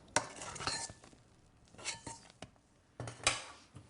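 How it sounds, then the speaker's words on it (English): A spoon folds cocoa, vinegar and chocolate into meringue in a bowl, giving a few faint, scattered clinks and scrapes of metal against the dish with quiet pauses between them. "Just keep turning the spoon round and down until everything is gently combined."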